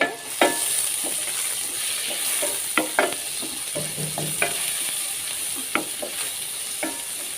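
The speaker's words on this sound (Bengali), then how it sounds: "তারপর একটু নেড়ে দেবো গাজরটা।" Chopped carrots for fried rice are stir-fried in a pan with onion and garlic, giving a steady sizzle broken by several sharp scraping and tapping strokes of the spatula, close and moderately loud with no talk.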